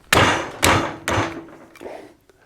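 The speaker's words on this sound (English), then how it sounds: "Usually when I crack these about a 1/4 turn each," Three sharp, loud cracks as a wrench breaks loose the engine head bolts on a Massimo MSU 700 during a top-end teardown, each followed by a short ringing decay and then a fainter clunk.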